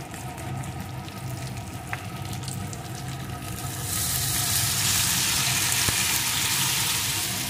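Water poured into a pan of fried gathi kochu (taro) sets off a loud, steady sizzle that swells and broadens partway through, then holds as a dense frying hiss.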